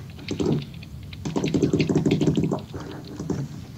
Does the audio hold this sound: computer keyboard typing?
yes